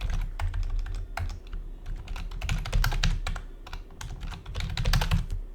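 Someone types a root password on a computer keyboard with a rapid, irregular clatter of close keystrokes over a low steady hum, and no voices.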